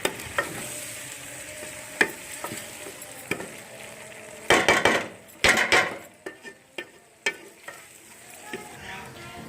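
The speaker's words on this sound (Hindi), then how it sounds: "और अब हम 2 से 3 मिनट तक इसे भी अच्छी तरह भुनेंगे" Potato, carrot and peas stir-fried in a pan: a soft continuous sizzle under repeated scraping and clanking of a spoon against the pan, with a burst of heavier stirring strokes midway, close, no talking.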